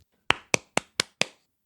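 Five sharp hand claps in a steady, evenly spaced rhythm, close and crisp, with no talking.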